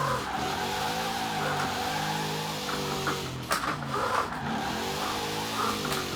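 A car is pushed to slide out while its engine revs up and down in repeated swells, and tires squeal briefly in short bursts over the continuous motor drone, heard close from on board.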